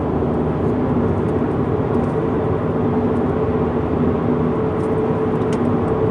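A Saab with its muffler deleted cruising at about 95 km/h downshifts and accelerates, producing a loud, steady low engine and exhaust drone heard from inside the car with road rumble throughout.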